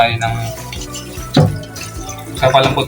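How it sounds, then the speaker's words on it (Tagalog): Water poured into a pot of pork bones for nilaga stew: a steady running, splashing stream with a louder surge midway, fairly close. "malilagyan na po natin ng tubig"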